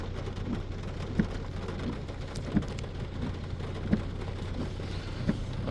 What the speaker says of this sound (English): Oh, rainy Monday.